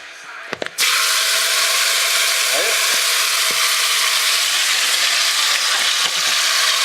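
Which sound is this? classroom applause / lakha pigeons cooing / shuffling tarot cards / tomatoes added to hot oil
tomatoes added to hot oil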